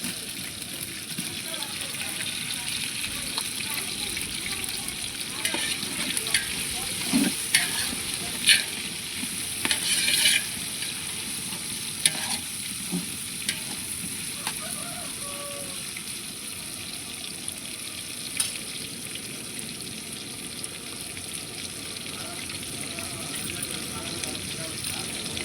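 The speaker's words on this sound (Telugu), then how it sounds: "ఇప్పుడు టమాటా ముక్కలు వేసేస్తున్నాము" Tomato pieces frying with ginger garlic paste in a pan for bagara rice, a steady close sizzle with occasional stirring clatter and bits of talk over it.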